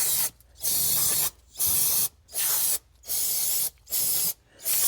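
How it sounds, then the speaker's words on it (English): Aerosol brake cleaner sprayed onto a Ford engine coated in slimy oil from an oiling fault, in six sharp, loud bursts of hiss of about half a second each, separated by brief pauses, with no voices. "I've already hit this side with brake clean"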